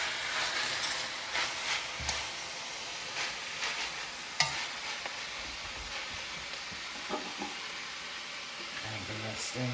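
Collard and mustard greens cooking down in a pot, stirred steadily with soft scraping and a faint sizzle, broken by a few sharper clanks, close and fairly quiet throughout.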